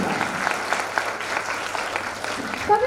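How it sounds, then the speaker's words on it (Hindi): An audience at a school annual function claps steadily and fairly loudly for a few seconds, a dense, even patter of many hands. "जोरदार तालियों के साथ स्वागत करें हमारी थीम का।"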